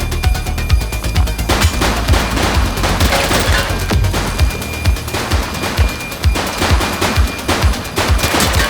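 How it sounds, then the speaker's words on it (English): Heavy gunfire in the police video game The Precinct, rapid machine-gun bursts and repeated close, loud shots in a steady rhythm across the whole stretch, with no talking over it. "Shots fired!"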